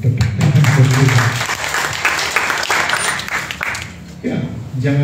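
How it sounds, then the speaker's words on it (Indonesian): A church congregation at a Sunday service applauds, with clapping mixed with speech and a voice rising again near the end. "Yang merdeka kita berikan tepuk tangan"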